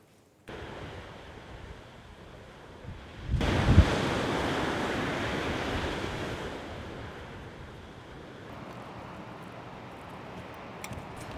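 Ocean waves break on the shore in an outdoor setting, a steady surf wash that swells louder after a few seconds with wind buffeting the microphone, no voices.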